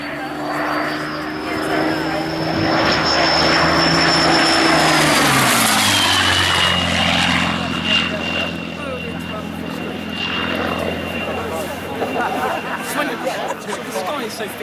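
A Spitfire Mk.1 or Sea Hurricane Mk.1b piston aircraft engine drones loudly in flight at an air display, its pitch sliding down as the plane passes overhead, then fading to a steady distant hum with talk over it.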